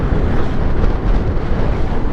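Wind buffets a microphone on a motorcycle ride, a loud, continuous low roar and rumble with no pauses and no talk.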